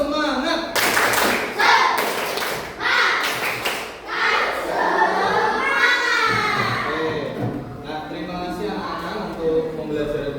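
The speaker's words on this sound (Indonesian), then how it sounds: "Tepuk semangat." A fifth-grade class does a rhythmic spirit clap led by a teacher, sharp clapping in bursts of patterned beats mixed with children chanting and calling out along with it.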